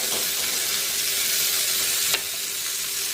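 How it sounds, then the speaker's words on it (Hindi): Chicken shashlik skewers with tomato slices sizzling in a pan, a steady close frying hiss with a brief clink partway through, and no voices. "इनकी साइज चेंज कर करके पकाते जाएंगे।"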